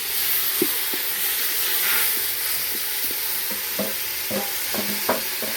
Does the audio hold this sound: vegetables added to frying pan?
yes